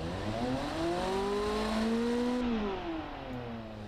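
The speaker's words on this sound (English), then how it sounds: "it is certainly certainly not a bad sounding engine." A V8 supercar engine in the game Automation revs up and holds high before easing off, a loud, smooth rising and falling whine with clear harmonics.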